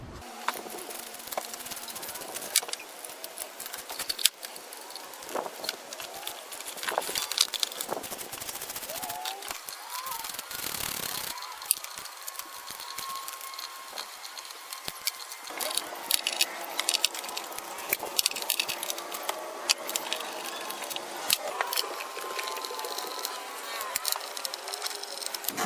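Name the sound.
removing 10mm bolts from Chrysler 300 timing belt cover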